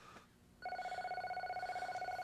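A telephone rings with a steady, pulsing electronic trill that starts abruptly after a brief quiet stretch and continues loud and close, with a faint voice at the start.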